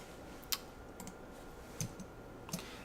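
Windows computer keyboard keys pressed in a quiet room: a few sparse, sharp clicks spread over about three seconds, faint and close, with no talking.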